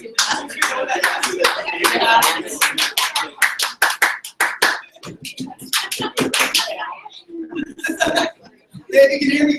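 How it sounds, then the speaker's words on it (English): Sharp hand claps, single and in pairs, ring out close and loud in a room at an education meetup, mixed with nearby talking and chatter between the claps. "you can hear me clap once"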